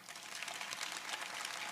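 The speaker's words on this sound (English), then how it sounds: "give ourselves a round of applause" A graduation crowd applauds the high school class of 2021, giving a steady, dense wash of clapping from many hands that stays even throughout and sounds moderately distant.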